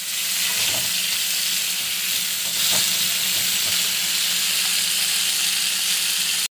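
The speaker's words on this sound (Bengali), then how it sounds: "বেগুনটাও দিয়ে দেবো একসাথে, সব একটু সাঁতলাতে হবে" Eggplant chunks and other vegetables, including potato and cauliflower, sauté in hot oil for a fish curry, producing a loud, continuous sizzle close by, broken by a few stirring knocks.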